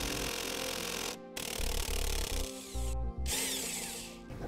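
A power tool spins out a Torx seatbelt bolt inside a 2008 Jeep Liberty, several loud close whirring bursts separated by brief pauses and short pulses, the motor pitch shifting between runs, with no talking.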